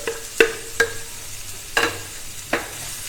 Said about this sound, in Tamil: இப்போ இதில் நம்ம துருவி வச்சிருக்கிற இந்த காலிஃப்ளவரை சேர்த்துடலாம்.